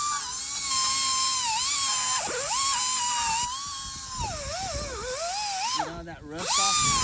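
An air-powered scrubbing wheel grinds rust off the front wheel spindle of a 2005 Mustang 4.0. It makes a close, steady high-pitched whine whose pitch wavers and dips as it bites into the metal, with a brief rough drop near the end.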